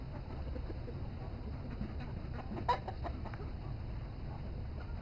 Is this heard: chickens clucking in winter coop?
yes